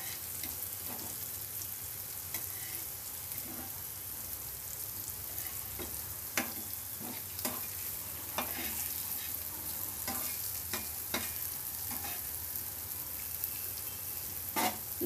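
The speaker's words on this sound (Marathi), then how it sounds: "कापं आपले दुसऱ्या बाजूने पण फ्राय करून झालेली आहेत." Semolina-coated potato slices fry in a pan with a soft, continuous sizzle, broken by scattered light clicks and scrapes as they are turned, all fairly quiet and close.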